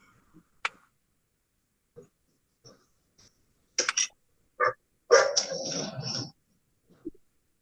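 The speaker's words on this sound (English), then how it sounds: "Dogs." Dogs bark in several short, sharp bursts separated by quiet gaps, with one longer rough stretch of barking and growling, fairly close and outdoors.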